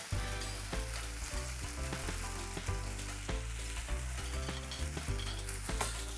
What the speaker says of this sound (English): I'm going to add my lemon juice to it.